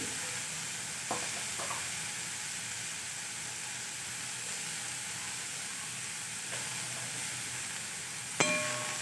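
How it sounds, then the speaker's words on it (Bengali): Food frying in a little oil in a pan, a steady bright sizzle and hiss throughout, with occasional clanks and scrapes of a spatula as it is stirred. "এগুলোকে আমি খুব ভালোভাবে ভেজে নিচ্ছি।"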